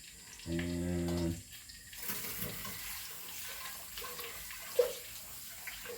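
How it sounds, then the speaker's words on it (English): Water runs from a tap for about a second and rinses a cooking pan out into a strainer of noodles on a farm, followed by a quieter stretch of handling noises and one sharp clink near the end. "kind of rinse the pan out and run it through the noodles"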